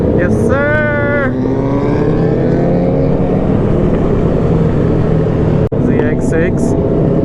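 A Kawasaki ZX6 motorcycle riding with a loud, steady engine drone and wind rush close by, while a voice talks over it in bursts.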